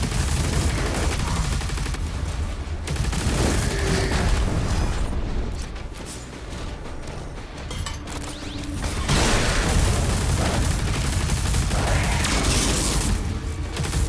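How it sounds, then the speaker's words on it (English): Overloaded shields detonate in Doom: The Dark Ages amid loud, dense game combat, a continuous roar of blasts, clanking mechanisms and rapid gunfire with heavy booms surging throughout. "when you overload the shields, it causes an explosion"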